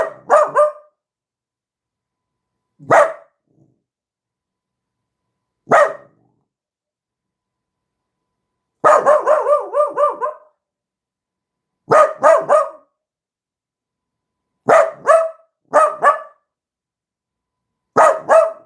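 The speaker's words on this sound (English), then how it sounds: "There's another dog" A dog barks loudly and close in separated bursts, single woofs at first and then rapid runs of several barks, with silent gaps between and no talk.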